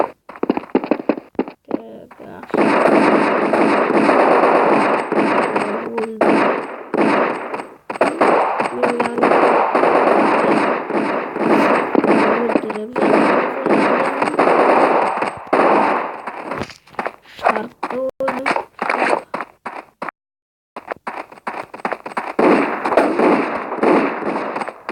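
Automatic rifle fire in Counter-Strike 1.6: loud, rapid bursts of shots crackling almost continuously, broken by a few short pauses and a clear gap near the end.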